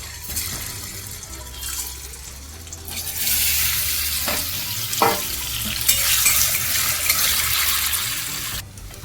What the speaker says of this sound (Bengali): পনিরগুলো কেটে রেখেছি, হালকা লাল লাল করে ভেজে তুলে নেব।